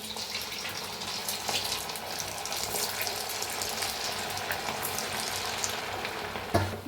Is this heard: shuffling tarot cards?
no